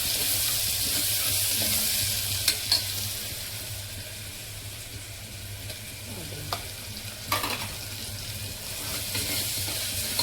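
Pongal batter fries in oil in a pan, a steady close sizzle with occasional stirring scrapes and clinks and no talking.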